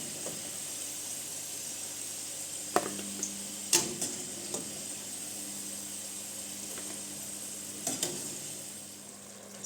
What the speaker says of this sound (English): we throw in our meats and the marinade that was with it